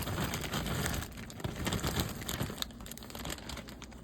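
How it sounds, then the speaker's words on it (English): A whole bag of dry lima beans pours into a pot, making a dense, rattling patter of beans and crinkling plastic for about a second, then trailing off into scattered rustles and light clatters. "we're going in with the beans. We're going to use a whole bag."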